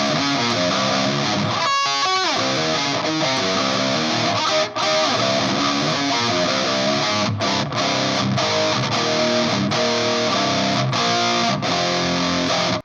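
Electric guitar played through a Behringer UM300 Heavy Metal distortion pedal, thick saturated chords and riffs with heavy gain, loud and continuous with short choppy breaks and a steady hiss of noise underneath.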